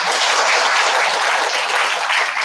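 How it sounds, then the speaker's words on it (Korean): A church congregation in Korea gives steady, dense applause as a show of support, a thick wash of many hands clapping at once that holds evenly throughout with no voices. "응원의 박수를 부탁드립니다"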